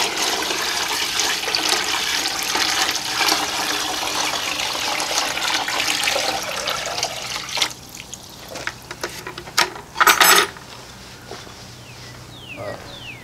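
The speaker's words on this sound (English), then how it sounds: "I'm going to add another bucket of water and see where it breaks." A bucket of water is poured into a hanging test-load bucket, a loud steady gushing splash lasting several seconds before it stops, followed by scattered knocks and handling clicks.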